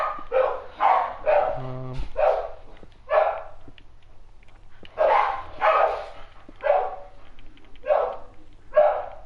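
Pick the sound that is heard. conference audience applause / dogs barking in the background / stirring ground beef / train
dogs barking in the background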